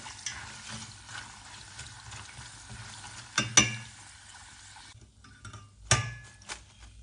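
Oil crackles and sizzles steadily as sweet potato chips fry, with occasional clattering scrapes of a utensil against the pan.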